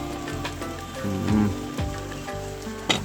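Light rain patters steadily on an outdoor barbecue setup where chicken feet and ripe plantain are roasting, a soft continuous hiss with scattered drops and faint clinks.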